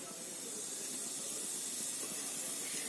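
Whole spices, including two pieces of cinnamon, sizzling in hot oil and ghee while vegetable biryani is being made; a steady, close, crackling hiss runs throughout with no talking.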